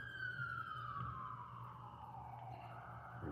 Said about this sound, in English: some early morning sirens.